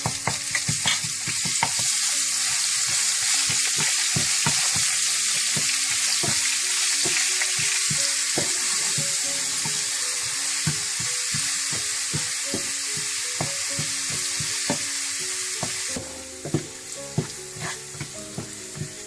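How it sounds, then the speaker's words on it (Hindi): Browned onions and garlic for pakora curry sizzle loudly and continuously in a hot pan while a utensil scrapes and taps repeatedly as it is stirred, easing slightly near the end. "जब प्याज थोड़े से ब्राउन हो जाएं तो आप इसमें लहसुन भी डाल दें।"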